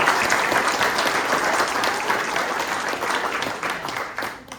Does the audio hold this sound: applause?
yes